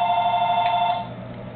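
A telephone rings with a steady electronic bell tone for about a second and then cuts off, leaving quiet room noise.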